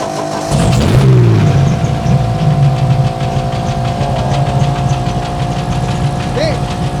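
An offroad race car with a 4800 cc six-cylinder stroker engine starts and settles into a loud, rough, close idle with a steady throbbing rumble, holding for several seconds without anyone speaking.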